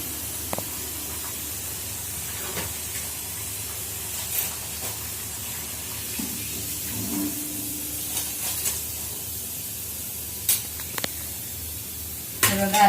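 Sago vadas deep-frying in hot oil for a fasting-day snack, giving a steady, soft hiss and sizzle throughout, with a few sharper crackles and pops near the end.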